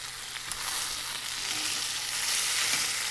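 Rack of lamb browns in a hot pan with a steady, close sizzle and frying hiss that runs evenly throughout, with a faint clink near the start and no talking.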